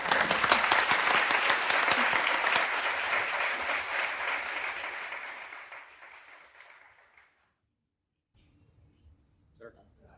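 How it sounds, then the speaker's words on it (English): A crowd claps steadily in loud applause that gradually fades out over several seconds, leaving near silence with a few faint rustles. "I would actually like to invite a round of applause for the team"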